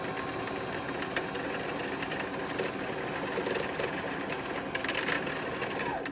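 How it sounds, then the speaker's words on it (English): A Brother SH40 sewing machine winds its bobbin under foot-pedal control, giving off a steady mechanical whir and hum with faint rattling, close by. "now I can put my foot on my foot pedal and wind the bobbin"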